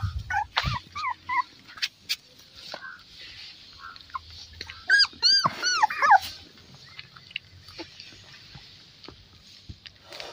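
Beagle puppies playing, with several high whimpers and short yips in bursts, some close and loud, over a quiet background with a little speech.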